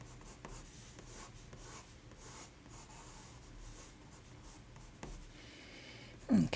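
Graphite pencil scratching across paper while sketching a horse's head with loose, flowing strokes; steady soft scraping and rubbing continues alone throughout, with a slightly louder scuff near the end.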